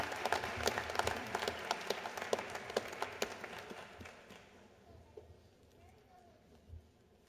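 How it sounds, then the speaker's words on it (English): An audience at a university commencement ceremony applauds Doctor of Nursing Practice graduates, a crisp burst of many hands clapping that gradually fades into quiet room sound, with a few scattered claps near the end. "Can we please have a round of applause for our Doctor of Nursing Practice graduates?"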